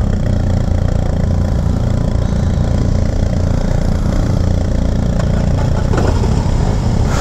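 A 2021 BMW R18 First Edition motorcycle running at idle after starting, a loud, steady, deep boxer-engine rumble close to the listener that holds evenly throughout, with a slight rise near the end.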